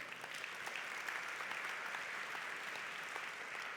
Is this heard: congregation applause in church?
yes